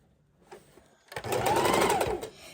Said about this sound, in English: And I'm still just using a straight stitch.